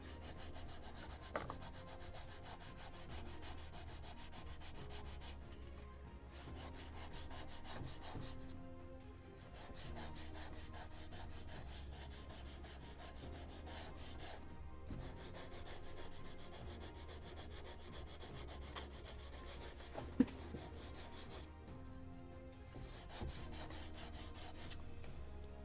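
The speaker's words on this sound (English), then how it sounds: "Sanding." Steady, continuous rasping of sandpaper rubbed back and forth over wooden ship-model deck parts, close and even, with brief pauses between strokes.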